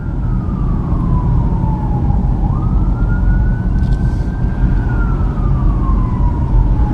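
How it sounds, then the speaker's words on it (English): An emergency vehicle siren wails through a city street in Columbia, South Carolina, its pitch sweeping slowly down, up and down again over steady traffic rumble, moderately distant and continuous. "You probably hear that siren"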